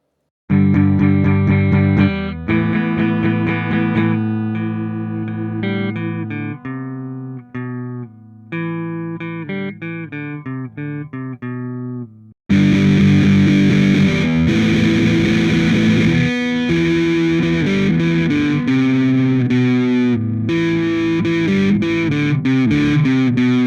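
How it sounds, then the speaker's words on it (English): A distorted electric guitar through a Spark amp plays notes and chords, then a loud fuzzy power chord crashes in and rings out with a thick, saturated sustain. "hit a power chord, and let it ring for a week or two."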